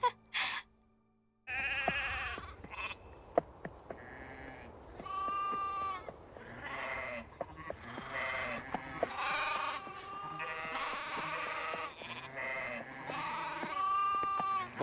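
Several sheep bleat close by, with repeated wavering calls overlapping one after another after a short quiet start.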